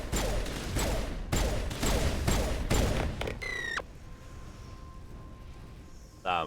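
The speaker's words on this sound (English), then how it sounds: "Damn, this pistol is great right now." Pistol gunfire in the video game Mass Effect Legendary Edition: a rapid string of loud, sharp shots in bursts, with a rising electronic whine after the firing and a faint steady tone fading out, then one last short burst.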